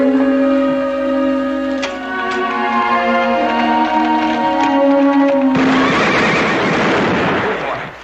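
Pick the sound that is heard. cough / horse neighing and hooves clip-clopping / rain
horse neighing and hooves clip-clopping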